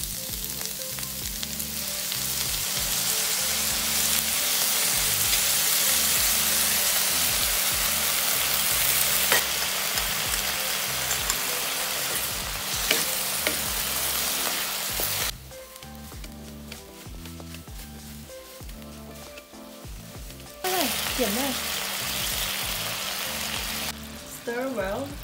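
Pork belly with preserved cabbage sizzles and fries in a pan while being stirred, a steady loud frying hiss that drops away partway through before returning, with occasional scraping.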